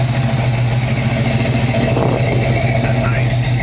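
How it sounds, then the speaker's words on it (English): A classic car in original condition idles close up through its exhaust. It makes a steady, loud, low rumble that throbs evenly across the short stretch, with no talking. "That nice exhaust I'm talking about."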